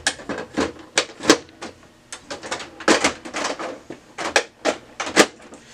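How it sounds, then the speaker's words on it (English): A drum is inserted into a Lexmark B2338 printer, giving a series of sharp, close plastic clicks and knocks in irregular bursts before it snaps into place. "Once you hear it click, you know it's in there."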